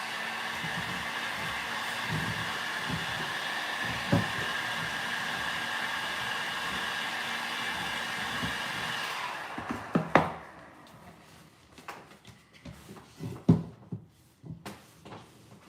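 A heat tool blows a steady, loud whooshing stream for about nine seconds while it warms a WoodUbend moulding so it can be shaped onto a surface. It then cuts off, leaving a few soft knocks and handling sounds.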